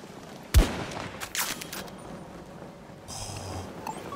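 A single sharp, loud long-range sniper rifle shot fires in Battlefield 2042 and trails into a rolling echo. Fainter game ambience and a few softer distant noises follow.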